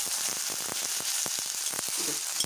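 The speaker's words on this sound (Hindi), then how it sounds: "2 मिनट फ्राई करूँगी। जब ब्राउन हो जाएगा" Potatoes fry in a pan for aloo palak, a dense, loud, close sizzle with rapid crackling pops throughout and no speech.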